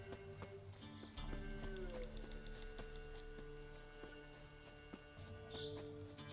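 Hoofbeats of the horse Roach in the video game Witcher 3, a steady clip-clop running under game music with a brief whinny, loud and close.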